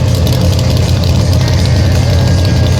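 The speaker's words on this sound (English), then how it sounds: "Big block Chevy injected full of alcohol." Injected big block Chevy pulling engine running on alcohol, around 1,800 horsepower, roaring loud and close at a truck and tractor pull with a deep, steady, heavy rumble and no talk.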